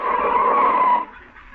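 Loud, close tire screech of a car skidding to a stop, a staged sound effect from a 1949 radio comedy, holding steady for about a second before cutting off into quieter background.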